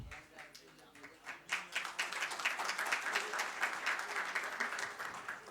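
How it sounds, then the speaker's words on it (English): An audience at a Data Science Foundation event breaks into applause, building from scattered claps into steady moderately loud clapping that continues to the end, with a voice speaking briefly at the start. "A generous round of applause, please."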